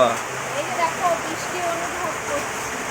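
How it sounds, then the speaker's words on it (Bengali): Steady rain hisses outside, a dense, even wash of falling water that continues without a break. "বাইরে খুব বৃষ্টি হচ্ছে"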